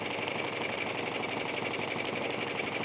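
Sewing machine running steadily as it stitches a decorative stitch over a cord with a size 1 stitch and shortened stitch length, a continuous close, even whirring hum with no pauses.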